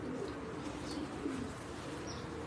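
Pigeons kept on a rooftop loft in the UAE coo softly and steadily over a continuous low background, with faint higher chirps scattered through.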